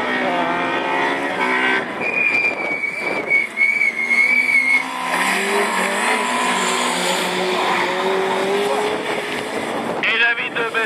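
Division 4 rallycross cars race on a circuit at Lessay, engines revving and whining as they brake and accelerate, with tyre squeals; a commentator talks excitedly over the loud, continuous racing noise.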